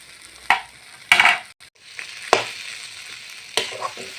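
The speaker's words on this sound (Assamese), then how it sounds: "এয়া আলুখিনি ভাজি হৈ গ'ল।" Potatoes fry in a pan, with a low sizzle broken by four or five sharp stirring scrapes and clinks of the utensil against the metal, close and fairly loud, with no speech.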